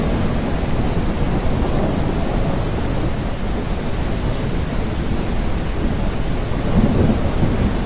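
Heavy rain and rolling thunder in the video game The Great Circle, a continuous loud wash of downpour with low thunder rumbling throughout and swelling slightly near the end.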